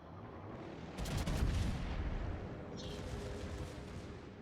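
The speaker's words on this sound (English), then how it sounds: "Secondaries are getting some shots off on Cleveland" Secondary guns on a Pommern battleship fire at a Cleveland cruiser in World of Warships, a loud booming cluster of shots over a steady background roar, trailing off into continuous rumble.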